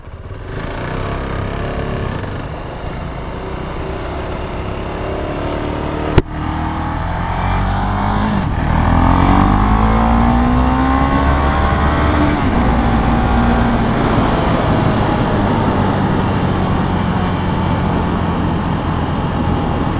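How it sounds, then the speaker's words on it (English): Husqvarna Vitpilen 701 motorcycle riding in Dubai, its engine revving up to the limiter: a loud, continuous drone that rises and falls in pitch, with wind rush throughout and a brief knock partway through. "I just keep hitting the limiter"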